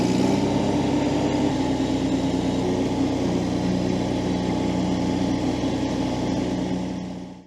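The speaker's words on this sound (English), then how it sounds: "So let's go and cut a little bit of grass." An Iseki TXGS24 compact tractor runs its underslung mulching deck over grass. The engine and blades give a steady, close, loud drone that holds evenly before cutting off at the end.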